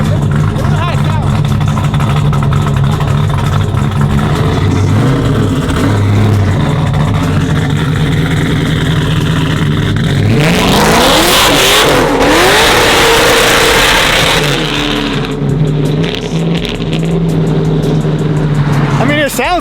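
A loud modified SEMA build car engine idles roughly, then revs up hard with a rising roar before settling back, with voices talking over it.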